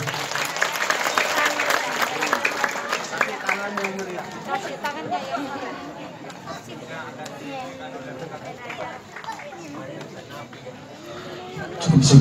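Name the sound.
audience applause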